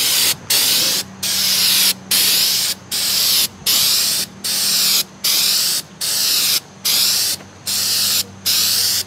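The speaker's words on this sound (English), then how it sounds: "Starting the second can now and coating it for the second time." A spray can lays a second coat of paint onto an RV countertop in about ten loud, hissing bursts of roughly half a second each, separated by short gaps, with no talking.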